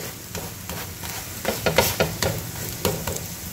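Coriander thalipeeth roasts on an oiled pan over a medium flame, giving a gentle crackling sizzle with intermittent scraping bursts as the flatbread is turned.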